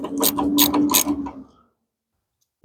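A ratchet on a one-foot extension tightening an 8 mm bolt during a 2013–2016 Dodge Dart engine and transmission job, giving a quick run of close, crisp clicks for about a second and a half before going silent.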